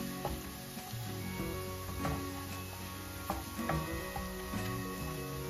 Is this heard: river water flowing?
no